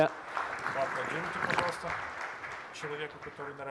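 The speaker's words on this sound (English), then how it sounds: "Round of applause." Audience applause at a cocktail talk, a dense burst of clapping that swells then thins out, with scattered voices and some cheering mixed in toward the end.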